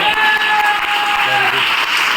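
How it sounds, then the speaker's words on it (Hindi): Loud, close audience applause at a business seminar, a dense steady roar of clapping with a voice briefly breaking through partway. "तो सर एक बार जोरदार तालियां लगाओ।"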